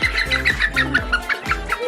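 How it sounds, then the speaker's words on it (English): A small farm bird held in the hand gives a rapid series of short, repeated calls and chirps, loud and close, in a quick uneven rhythm. "Look at that cute bird."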